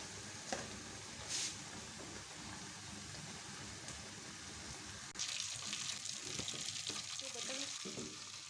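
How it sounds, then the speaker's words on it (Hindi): Steady sizzling of cumin seeds frying in hot butter, a continuous crackle that grows louder and brighter partway through. "हमने इधर बटर को गर्म कर लिया। उसमें 1 टीस्पून ज़ीरा डाल देंगे।"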